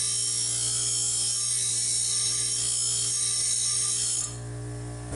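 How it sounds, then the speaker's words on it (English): An angle grinder working on high carbon steel from a salvaged garden hoe, a loud steady high whine with abrasive grinding that stops abruptly near the end, leaving the motor spinning down, no voices. "The angle grinder works fast but relatively crudely"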